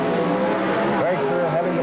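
Drag racing cars launching down the strip at a 1979 NHRA meet in Edmonton, a steady loud engine roar with rising whine, heard under a fast commentator's voice.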